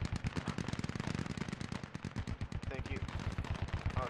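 Automatic rifle fire in a video game, rapid close bursts of sharp shots in a fast, nearly continuous rhythm with a few short pauses.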